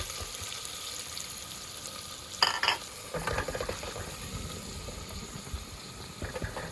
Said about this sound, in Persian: پیاز رو میریزیم سرخ بشه.